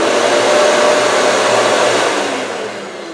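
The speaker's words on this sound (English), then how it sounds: "3/8 inch spiral upcut bit here to make these grooves." A Festool OF 1400 router with a 3/8 inch spiral upcut bit cuts grooves in wood, giving a loud, steady high-pitched whine that holds for a few seconds and then fades slightly toward the end, with no voices.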